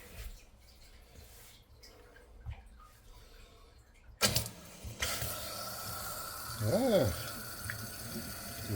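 A Grohe Concetto pull-down kitchen faucet is turned on partway through, its water stream hissing loudly and steadily after a quieter opening with faint handling noises and a brief squeak.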